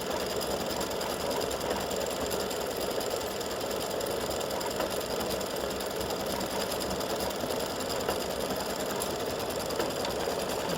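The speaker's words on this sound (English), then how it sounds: "My bobbin sound is odd." A home sewing machine with an odd-sounding bobbin runs in one steady, close, continuous whir with a rapid mechanical knock throughout, unbroken for the whole stretch.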